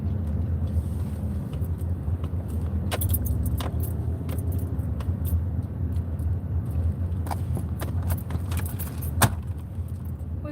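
Keys jangle in a series of metallic clinks and rattles inside a car while it drives, the engine rumbling steadily beneath them, with no talk.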